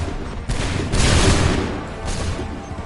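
A musket volley fires in Assassin's Creed 3, a loud, booming crackle of massed shots swelling then rolling away, with further reports following close behind.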